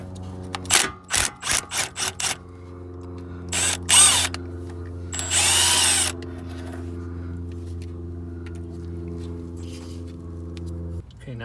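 A power tool backs out the 12 millimeter brake line bracket bolt on a Hyundai Veloster, several short bursts followed by longer whirring runs over a steady low hum.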